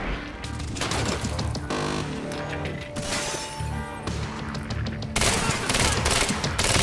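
Rapid gunfire in the Xbox One shooter Quantum Break, dense bursts of shots with crashing impacts and shattering debris, loud and continuous throughout with only brief lulls.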